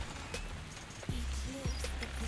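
A horse in a video game clip-clops and stirs briefly, with faint hoof sounds and thuds over a busy, noisy game background.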